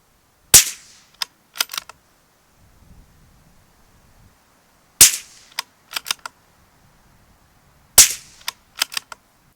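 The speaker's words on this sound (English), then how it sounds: "I've used a moderator throughout the review of this rifle because the 17 HMR is a great cartridge and this just reduces some of the muzzle noise" A CZ 457 MTR rifle in .17 HMR fitted with a moderator fires three spaced shots outdoors. Each loud, sharp crack is followed by a few quick mechanical clicks, with quiet gaps between shots.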